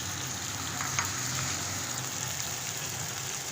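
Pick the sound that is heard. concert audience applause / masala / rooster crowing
masala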